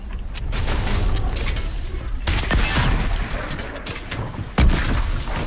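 A bomb blast in Fortnite booms out in a loud, broad burst amid continuous game noise, followed a couple of seconds later by a second sharp impact.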